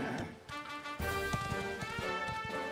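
Horse hooves clip-clopping in the video game Dragon Quest XI: a steady run of hoof beats under the game's map music, moderately loud and evenly paced, with no one speaking.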